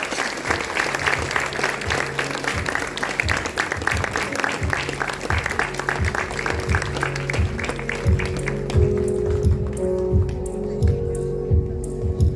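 An audience at a jubilee concert of a mixed choir applauds a guest stepping onstage, a dense, loud, continuous wave of clapping that holds steady for several seconds before thinning out toward the end.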